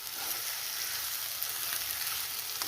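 Ground marvin kai (raw mango) chutney fries in a pan with a continuous soft sizzle and faint crackling, a low, even hiss heard alone with only small flickers of spattering.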